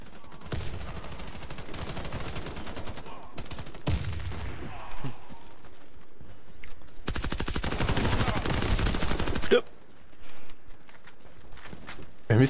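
The Z84 machine gun fires in Warface in long sustained automatic bursts, close and loud, with short pauses and a few footsteps between strings of shots.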